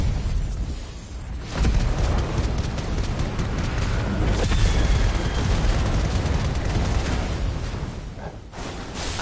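Bomb blasts in the video game Final Fantasy XVI: a thick, continuous roar of rumbling explosions and bursts, loud and close, swelling after a quieter opening and easing off near the end.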